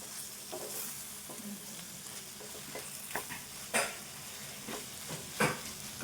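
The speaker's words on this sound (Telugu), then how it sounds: "కొద్దిసేపు ఉడకాలి ఇది ఇట్లా ఫ్రై కావాలి" Okra frying with tomato in a pan, a soft continuous sizzle with scattered scrapes and clinks from stirring, a few louder strokes near the end, close and without speech.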